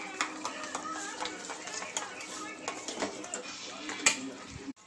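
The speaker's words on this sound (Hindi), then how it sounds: "और यहाँ पे मैंने लिया है 4 स्पून दही और 1 स्पून बेसन, इसे अच्छे से मिक्स कर लेना है।" A spoon scrapes and clinks in a bowl as curd and gram flour (besan) are mixed by hand. The stirring comes in quick, close, uneven taps, with one sharper knock near the end.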